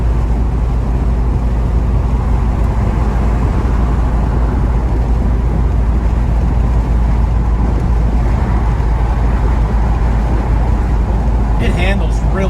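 A 1972 Chevrolet Chevelle with an overdrive transmission cruises at about 85 mph on the highway, giving a steady, loud, unbroken wash of road and engine noise from inside the car.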